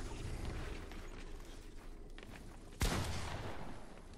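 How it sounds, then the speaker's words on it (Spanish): Fortnite gunfire crackles in a sustained, noisy stream, then one sharp, louder shot bursts out near the end. "Me salió un balazo"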